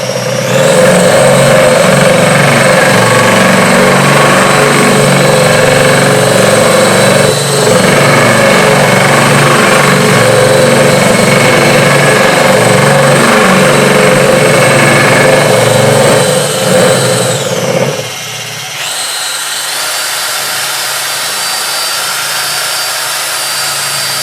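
A System 4000 pad washer cleaning a primed pad at low speed gives a loud, steady mechanical whine and drone that holds for most of the clip, then cuts out near the end, leaving a quieter hum.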